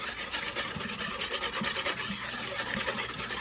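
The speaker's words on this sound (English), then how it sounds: "Then we're gonna whisk all this together" Sauce ingredients with garlic are whisked together in a bowl, a quick rhythmic scraping and rubbing of whisk strokes repeating steadily and close, with no talking.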